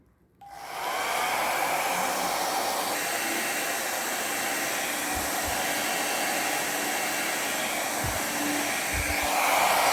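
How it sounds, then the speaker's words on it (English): A hair dryer switches on and blows steadily at close range over wet fluid-art paint to clear bubbles, a loud continuous whooshing hum with a few faint low thumps. "I'm going to use a hairdryer to blow, hopefully blow a lot of the bubbles away"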